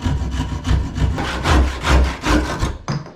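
A hand saw cuts wood aboard a wooden boat under restoration, about a dozen brisk rhythmic back-and-forth strokes, close and loud, ending in a short pause and one final stroke.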